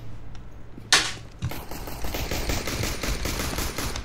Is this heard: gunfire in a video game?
yes